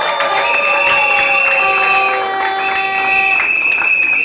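Crowd cheers and applauds at a civil wedding signing where the bride is actress Genèse Lushiku and the groom is artist Debandal Yoka, steady and loud throughout, with shouting voices and some talk mixed in.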